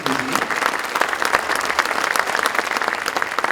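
Audience at a drone conference forum applauding after a talk, a dense, steady wash of many hands clapping close and fairly loud throughout, with a faint voice briefly beneath it.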